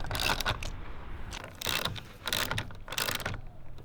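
Ratchet wrench tightening the bolts of a Drifta awning bracket onto a roof rack, several bursts of rapid clicking separated by short pauses, close and fairly loud.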